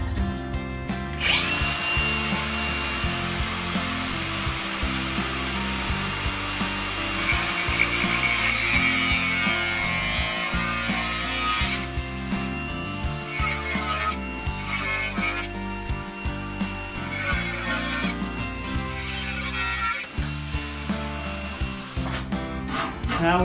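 A power saw cuts a wooden shelf board for a cedar-lined closet, giving a loud, steady whining buzz for about ten seconds, followed by several shorter bursts of cutting with pauses between them.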